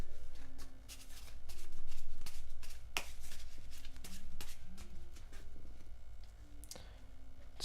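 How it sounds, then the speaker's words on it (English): Tarot cards being shuffled in repeated quick riffles and flicks, close and crisp, with a low hum underneath and no talking. "as I shuffle it and draw another card for you"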